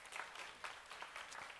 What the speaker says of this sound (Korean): 할렐루야, 박수 한번 쳐주세요